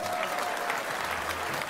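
Thunderous applause from a gathered audience greets deputy Laurent Jacobelli at his 2025 New Year's greetings event in Moselle, a dense, steady clapping that fills the whole moment without a break.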